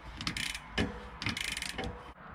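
A bicycle cassette lockring on a mountain bike fitted with a SRAM Eagle XX1 AXS electronic drivetrain clicks as it is tightened, giving close, crisp ratcheting bursts in two runs separated by a brief pause, with no voices.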